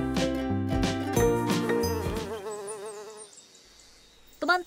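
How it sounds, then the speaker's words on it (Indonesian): A bee flies toward flowers, giving a loud wavering buzz that rises and falls for about three seconds before thinning out, followed by a brief sharp tap. "Teman-teman awas, ada lebah."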